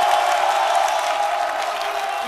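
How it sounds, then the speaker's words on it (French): A studio audience claps steadily in a broad, even wash of applause, loud and sustained for the whole moment with no pause. "moi, je voudrais qu'on applaudisse spécifiquement le public de ces midis aujourd'hui"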